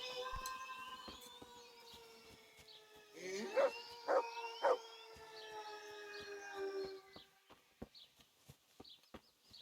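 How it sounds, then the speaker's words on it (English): A dog in the medieval game Kingdom Come: Deliverance howls in a long, drawn-out wail with a few sharp barks in the middle, distant and eerie over a quiet ambient background. "That's that dog barking."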